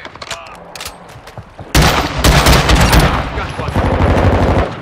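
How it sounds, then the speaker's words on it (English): Heavy automatic gunfire in Call of Duty: Modern Warfare II erupts after scattered single shots, becoming a loud, continuous burst of rapid rounds that fills the rest of the scene, with a soldier's voice shouting beneath. "Taking effective fire!"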